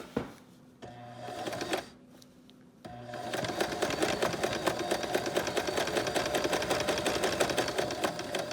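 Sewing machine stitching along a pant seam, two short starts and then a long steady run of close, loud mechanical whirring and needle clatter, no talk.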